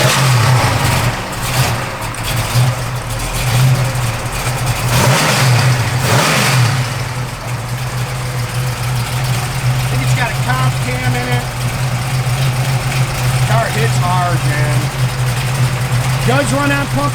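1971 Chevrolet Camaro SS V8 running on pump gas, a loud rumbling idle with a few sharp revs early on, steady throughout while someone talks over it near the car.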